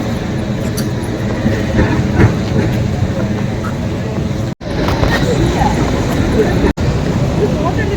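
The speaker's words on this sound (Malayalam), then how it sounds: "ഇത് ട്രാം" A tram runs along a city street in Zagreb, Croatia, its rail rumble steady and fairly loud amid road traffic, with two brief dropouts in the sound.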